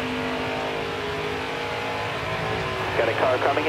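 Race truck engine in the game Nascar Heat 4, a steady droning whine of a pack of trucks at speed on the Charlotte oval, rising into a louder passing surge near the end, with a spotter's voice talking over it.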